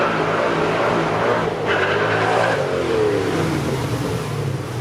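A 1,000-horsepower supercar with a supercharged V8 accelerates hard at a supercar weekend run, a loud, close engine roar that rises in pitch through the gears and sweeps past.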